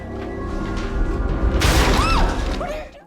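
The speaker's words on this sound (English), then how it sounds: "In a panic, Peter goes to Emma's apartment and smashes her cello to pieces." A cello is smashed to pieces in the TV series Heroes, a sudden loud crash and splintering burst that follows a low rumbling scene, with tonal swoops ringing after the impact.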